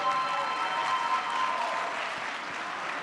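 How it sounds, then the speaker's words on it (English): Steady applause from an audience at a New Jersey community college student leadership summit, honouring student leadership advisors, with a dense, continuous clapping that fills the room throughout. "Stand up and get that applause."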